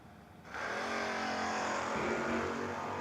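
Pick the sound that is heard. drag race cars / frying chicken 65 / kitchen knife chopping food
drag race cars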